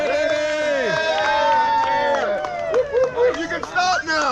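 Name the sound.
people cheering riders on at the top of the climb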